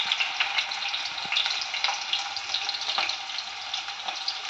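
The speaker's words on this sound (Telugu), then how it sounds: "ఆనియన్స్ వేసుకున్నాను. అది కొంచెం దూరగా వేగాక" Onions frying in a pan with cumin, a steady close crackling sizzle with small pops throughout, no talk.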